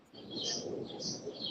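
Birds chirp in a Brooklyn backyard garden, bright repeated calls standing out above a steady outdoor background.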